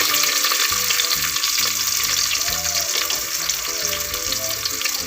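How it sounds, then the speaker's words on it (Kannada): Onion frying in a pan during village cooking of a silver fish curry, a dense steady sizzle with stirring scrapes running unbroken and close throughout. "ಒಂಚೂರು ಫ್ರೈ ಆವಡು"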